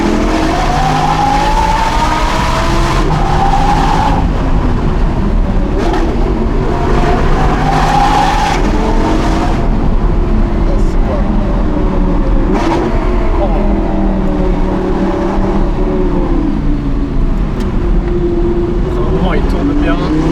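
An Audi R8 V10 Plus fitted with a Capristo exhaust drives past with a steady, loud engine note that rises and falls through gear changes over the full stretch, with a voice talking over it.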